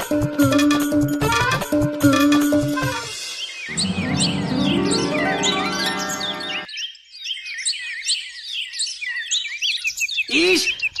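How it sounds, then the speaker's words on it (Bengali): Birds chirp and tweet in rapid, busy bursts, high and clear, with some stretches crowded and layered and a short quiet gap before the calls resume. "ইস, পাখিগুলো কিরকম ভাবে কাঁদছে।"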